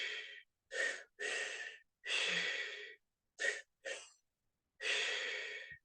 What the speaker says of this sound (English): You can either suck the air in through your mouth